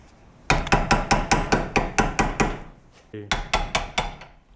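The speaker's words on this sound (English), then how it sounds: "I'm just kind of banging at the top of the shock. This metal, just trying to get it out without damaging the housing." Hammer blows on the top of a metal car shock absorber, a run of about nine sharp, ringing strikes in steady rhythm, a brief pause, then four more, close and loud.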